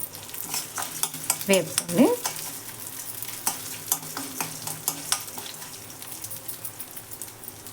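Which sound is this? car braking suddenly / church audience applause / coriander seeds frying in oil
coriander seeds frying in oil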